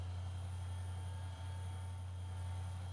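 A train runs in the railway simulator game Trainz 2022, a heavy 164-ton train creeping up a grade, heard as a steady low rumble with a constant hum and faint high tones, no talking.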